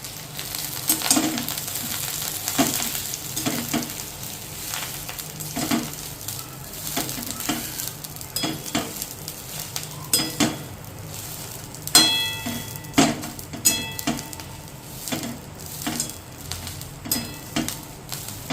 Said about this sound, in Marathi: अशी तेलावर छान अशी परतून घ्यायची